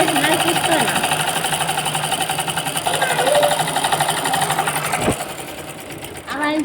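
A sewing machine stitches palazzo pants in rapid, even bursts of mechanical clatter, close and fairly loud, pausing near the end, while someone talks over it.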